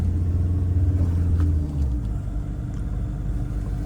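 A car engine labours in second gear up a steep mountain highway on the Shimla to Manali road, a loud, steady low rumble with a slight dip in pitch partway through.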